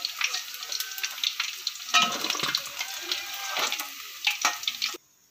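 Chicken 65 pieces frying in hot oil, a dense, steady sizzle with crackling pops, close up, that cuts off abruptly near the end.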